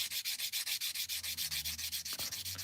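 Plastic parts of an Airfix Concorde model kit get a gentle rub-down, a fast, even rhythm of scratchy strokes repeating close up, with no talking.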